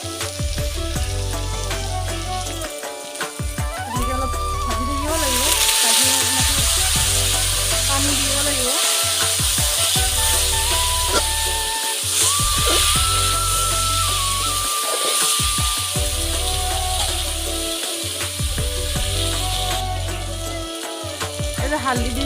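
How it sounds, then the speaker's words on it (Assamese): Food frying in a pan in a home kitchen, a steady sizzle running throughout with periodic stirring scrapes, moderately loud and close, with someone speaking over it at times. "অলপ ভাজি থাকিব লাগিব"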